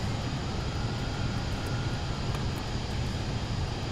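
A Pilatus PC-24 business jet climbing toward flight level 430 in Microsoft Flight Simulator 2024, a steady, dense cabin engine roar holding constant throughout with no talk.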